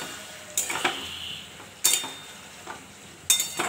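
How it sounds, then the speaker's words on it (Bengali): Cauliflower and potato pieces go into a cooking pan, giving three sharp metallic clinks and scrapes spaced about a second and a half apart against a quiet kitchen background. "ফুলকপি আলুটা দিয়ে দিচ্ছি।"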